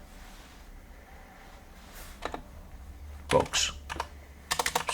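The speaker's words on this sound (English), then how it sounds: "I'm going to go to the search bar. I'm going to type tick" Computer keyboard keys are typed in short bursts, entering a search term in a shapes menu while building a Visual Basic hotel app; quiet room tone fills the gaps between clusters of clicks.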